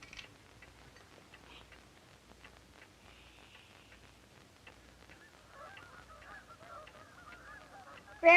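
Geese honking, faint calls scattered over a quiet background and growing into a busier cluster of honks near the end, with a sharp louder burst at the close.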